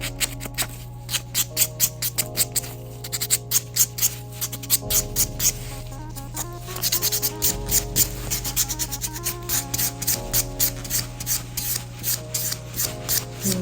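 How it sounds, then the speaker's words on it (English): A small nail buffer scrubs across toenail edges during a pedicure, close and loud, in quick repeated rubbing strokes with a steady rhythm and brief pauses between passes. "I'm really making sure I'm buffing everything out, those edges, and everything."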